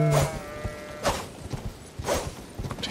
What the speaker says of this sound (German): Da ist ein Schaf, ein ganz kleines Schaf.